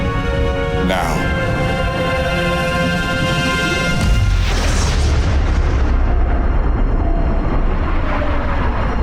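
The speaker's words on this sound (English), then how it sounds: "Antimatter explosion, sir. Artemis is gone." An antimatter explosion in a Star Trek fan film, a sudden deep boom about halfway through that swells into a loud, sustained rumbling roar over a tonal score, with a voice audible before the blast.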